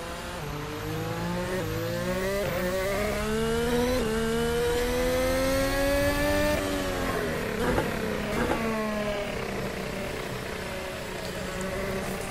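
Loud, continuous high-revving engine of an RSS Formula Hybrid X 2021 race car lapping Silverstone in Assetto Corsa, with rising pitch sweeps through upshifts, downshift dips, and faint tire noise, no talking.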